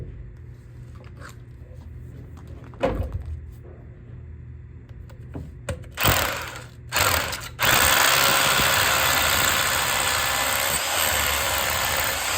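A power drill with a long bit runs in short bursts, then settles into a long steady whine as it bores deep into a crawlspace, loud and close over a low background hum.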